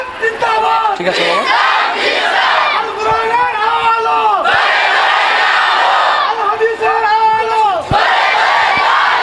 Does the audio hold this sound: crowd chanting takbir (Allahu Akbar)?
yes